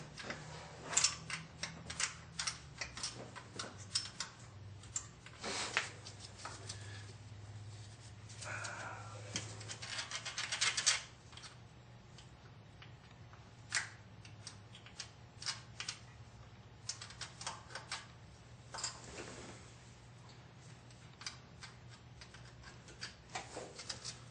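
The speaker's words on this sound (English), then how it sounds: "gasket material off, or whatever was used to seal it up last time. Get something in there and scrape it." Quiet, irregular scratching and clicking bursts as old gasket material is scraped off a Chevy S-10 valve cover, with short strokes separated by pauses over a faint steady hum.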